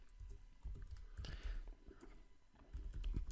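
Typing on a computer keyboard while entering an ad headline, a quick run of soft clustered clicks at close range with no talk.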